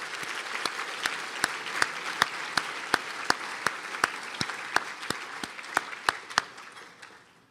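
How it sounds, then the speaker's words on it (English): A crowd at a School of Pharmacy and Health Professions alumni dinner gives steady applause, many hands clapping evenly throughout with sharp, regularly spaced claps standing out close by before fading at the end. "Ladies and gentlemen, a round of applause,"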